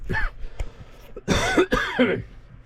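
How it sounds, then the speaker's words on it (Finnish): A few coughs and throat-clearing bursts near the recorder, loud and rough, at a worksite with a Valmet 860.3 tractor, no speech. "Yskis"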